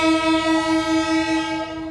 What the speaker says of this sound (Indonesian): KLB-nya berangkat menuju stasiun Lempuyangan ya teman-teman